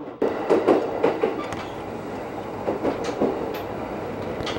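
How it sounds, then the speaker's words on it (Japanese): The SL Moka steam locomotive train on the Moka Railway rolls past close by, its wheels clacking in uneven rhythmic bursts over a steady rumble, with no voices. "真岡鉄道の名物 SL 真岡号は土日のみ運行される列車で"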